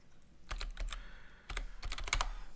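Keys clatter on a computer keyboard in quick clustered bursts with short pauses between them, close and fairly quiet, as commands are typed into a Linux bash terminal.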